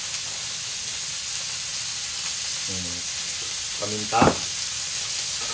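Pakbet vegetables sauté in a pan with a constant loud sizzle and hiss; a few brief stirring clanks come near the end, and a voice speaks briefly.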